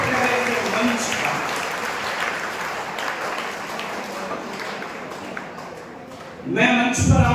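An audience at a school Deepotsav and medal ceremony in Sikar claps continuously, the sound fading slightly before a fresh surge of clapping near the end, with a voice speaking over it.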